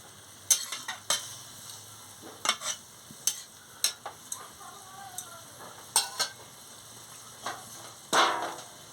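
A spoon stirs pumpkin and prawn chorchori in a pan after water is added, giving irregular scraping strokes against the metal over a soft bubbling sizzle, with no voices.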